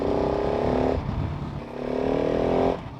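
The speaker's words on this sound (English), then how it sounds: "when you really get on the gas on these things," A KTM 690 single-cylinder motorcycle engine revs hard twice, giving two deep, throaty surges with a brief dip between them. It is close and loud, and no one speaks over it.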